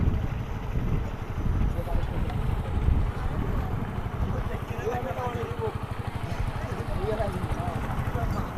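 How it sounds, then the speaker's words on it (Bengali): A fishing boat approaches on a river near Kajiar Char, its steady engine drone rumbling close and continuous, mixed with wind buffeting and people talking nearby. "ওই তো দেখেন একটা নৌকা আসতেছে ওরা সম্ভবত মাছ মারা মাছ মারি আসলো"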